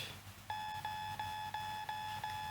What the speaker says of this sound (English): An alarm went off throughout the facility.